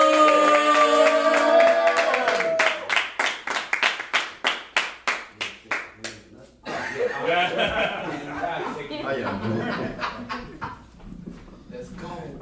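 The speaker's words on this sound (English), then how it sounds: "Everybody start clapping." An audience claps for a poet at a poetry event, starting with rhythmic unison handclaps that give way to scattered applause, with voices and cheering mixed in under the clapping.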